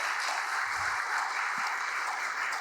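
Sustained applause from an indoor audience at a labour alliance consolidation meeting in a hotel, a dense steady clapping that fills the room evenly without pause.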